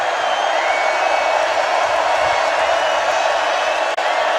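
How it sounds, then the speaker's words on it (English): A packed stadium at a Baylor home football game against Oklahoma State sends up a loud, continuous roar of cheering that holds steady throughout, with a brief dull thump near the end. "Crowd is up."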